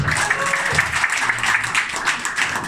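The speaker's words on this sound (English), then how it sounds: "give yourselves a round of applause." A small group at a business networking talk claps in a steady burst of applause, close and lively, lasting a few seconds.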